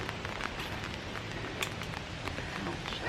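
Steady rain falls outdoors at a roadside stop, a dense, even hiss with scattered louder drop taps, continuous and fairly close throughout, with no voices.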